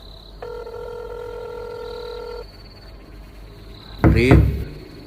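A steady tone from a telephone handset, joined by a long dialing tone, before a sharp burst of noise, all heard close against a faint background hum.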